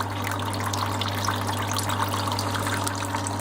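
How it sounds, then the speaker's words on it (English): Steady liquid flow as beer wort is pumped out during sparging with 75-degree water, a continuous trickling, gushing texture over a low constant pump hum, fairly close and even throughout. "So now I'm sparging with 75 degree water on the top, slowly"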